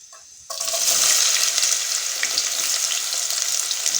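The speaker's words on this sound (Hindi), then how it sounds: "ये प्याज ऑयल हमारा गर्म हो चुका है। अब हम इसमें प्याज शामिल करेंगे।" Sliced onions drop into hot oil for beef liver curry, bursting into a loud, steady sizzle right after a quiet start and crackling on close by with no talk.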